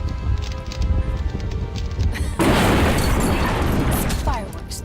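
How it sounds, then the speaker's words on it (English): Fireworks burst in the video game Woolfe: The Red Hood Diaries, a sudden loud crackling blast at mid-clip that rolls into a sustained fizzing rumble over a steady game music and ambience bed. "Fireworks to keep them busy while I escape this cursed old city."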